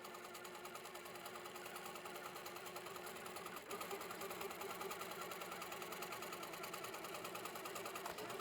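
An HQ Pro-Stitcher Classic computerized longarm quilting machine stitches a quilt with a steady, fast mechanical hum and rapid needle chatter, continuous and fairly loud throughout, with a slight jump in level partway through.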